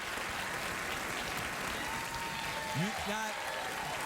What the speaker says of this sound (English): probably be more appropriate to do the cheering and applause when he comes out